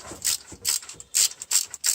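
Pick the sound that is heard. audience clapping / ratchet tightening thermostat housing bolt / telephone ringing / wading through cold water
ratchet tightening thermostat housing bolt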